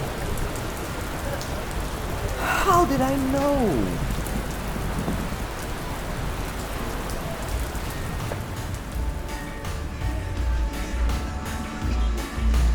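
Steady, dense rain falls on a hot day in Curaçao, a continuous hiss of drops striking surfaces. A voice speaks briefly early on, and the downpour carries on evenly underneath.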